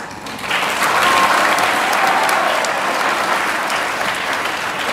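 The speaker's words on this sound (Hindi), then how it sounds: "अब तालियां और तेज हो।" Dense audience applause fills a hall, rising quickly at the start and then holding as steady, loud, continuous clapping from a large crowd, with no voices over it.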